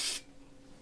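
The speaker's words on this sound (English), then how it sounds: "you know my trick, I'm gonna spray my tablespoon first." Cooking spray hits a tablespoon in one short, sharp hiss lasting a fraction of a second, followed by quiet room tone.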